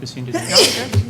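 A single sharp sneeze bursts out near the middle of a school board of education meeting in a room, with people speaking before and after it.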